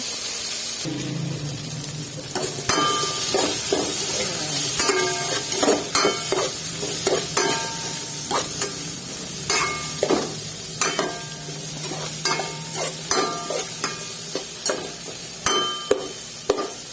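Butter melts and sizzles in a hot pan with tomatoes for a creamy pesto pasta sauce, giving a steady close frying hiss broken by repeated sharp stirring and scraping taps.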